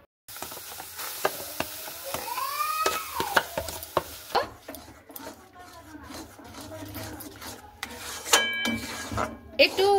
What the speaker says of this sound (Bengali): আমি ভালো করে নাড়াচাড়া করে নিচ্ছি